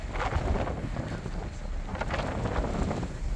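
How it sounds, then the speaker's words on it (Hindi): Strong wind buffets the microphone in a steady, loud roar with gusty surges, no voices present, on the Dover to Dunkirk crossing. "इस वक्त यहाँ पर बहुत ही तेज़ हवा चल रही है, शायद आपको इसकी आवाज़ भी आ रही हो"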